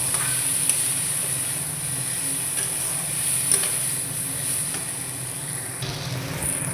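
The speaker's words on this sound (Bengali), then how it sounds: "এবার ভেজে রাখা আলুর সাথে মশলাগুলো ভালো করে কষিয়ে নেব।" Spices and fried potatoes frying together in a pan for a vegetarian aloo dum, giving a steady close sizzle and hiss with faint stirring scrapes throughout, no talking.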